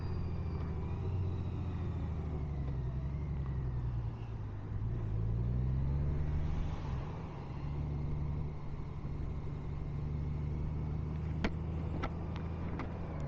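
Road traffic surrounds a 2023 Honda Gold Wing motorcycle on the move, a steady close rumble of engines and tyres with vehicles passing and a few sharp clicks near the end.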